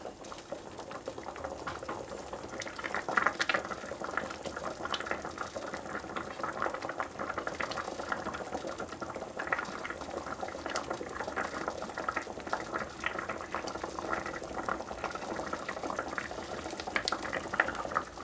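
Lasagne noodles bubble in a pot of boiling water, a steady, moderately quiet rolling boil with dense crackling bubbles and occasional louder pops throughout.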